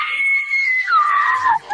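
A woman at a fashion event lets out a single loud, shrill scream that holds a high pitch, then bends downward before cutting off abruptly.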